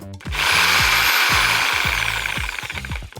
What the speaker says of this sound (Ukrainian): Все це зможе розпилити шабельна пила R950.